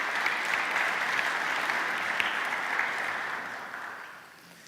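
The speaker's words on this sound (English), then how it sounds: "Yeah, we can clap now, we can celebrate." Audience at a church vision talk breaks into sustained applause, a dense wash of many hands clapping that holds steady and then gradually fades out, with no one speaking.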